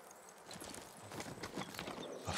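Video game horse hooves clip-clopping at a steady walking rhythm in Ghost of Tsushima, close and fairly quiet, over soft ambient background with no talking.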